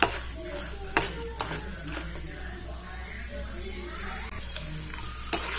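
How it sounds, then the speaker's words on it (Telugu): Cashew nuts fry in hot oil for tamarind pulihora, giving a continuous soft sizzle broken by several sharp clicks and scrapes of a spoon against the pan. "ఇలా జీడిపప్పు వేసుకొని బాగా వేయించుకోవాలి"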